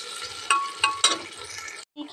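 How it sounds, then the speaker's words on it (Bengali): Chopped tomato and garlic frying in a pan with onion, a steady hiss of sizzling broken by a few scraping stirs before it cuts off briefly near the end. "দেখো রসুনটা অনেকটা ভাজা ভাজা হয়ে এসছে, টমেটোটাও দিয়ে দিয়েছি।"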